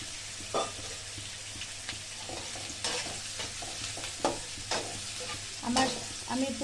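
Onions and green chilies fry gently in a pan, a soft steady sizzle broken by repeated spatula scrapes and taps, close and fairly quiet with no speech.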